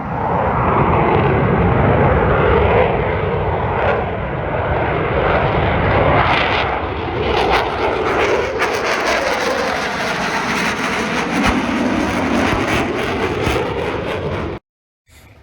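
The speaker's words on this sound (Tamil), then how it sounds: "பறக்கிற எல்லா ஏர்க்ராஃப்ட்டும் ஒரே ஸ்பீடில் அந்த டைமண்ட் ஷேப் மெயின்டைன் பண்ணி ஃப்ளை பண்ணுவாங்க" Blue Angels jet aircraft fly in diamond formation at the 2021 San Francisco Fleet Week airshow, a loud, sustained roar of engines sweeping overhead and slowly shifting in pitch before cutting off.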